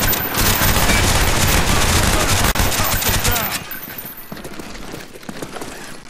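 Death Machine minigun in Call of Duty Black Ops, in a bot-fighting mod, roars in a loud, dense continuous burst of rapid fire, then drops to quieter scattered shots and mechanical rattle.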